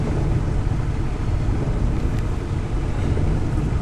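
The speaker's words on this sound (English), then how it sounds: "I'm going to have to sit here and let this defogger work a little bit." The defogger blower of a 1985 Ford F-250 runs while its diesel engine warms up, a steady loud rushing whoosh over a low engine rumble from inside the cab, unbroken and with no talking.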